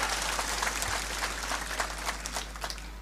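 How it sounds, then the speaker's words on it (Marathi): A crowd at a political rally claps in a dense, sustained patter of applause that fades slightly toward the end, over a steady electrical hum. "एकदा टाळ्या वाजून त्यांचं सुद्धा अभिनंदन आपण करा"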